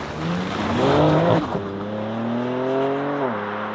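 A 2022 BMW X4 M Competition (LCI) drives on the road, its engine note rising and falling with clear harmonic tones as it accelerates and shifts, steady and fairly close throughout.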